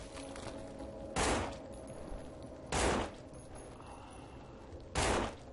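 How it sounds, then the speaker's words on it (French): Three spaced gunshots in the zombie survival video game No More Room In Hell, each a short loud burst over a steady background bed, with no talking. "Quand je tire mon arme."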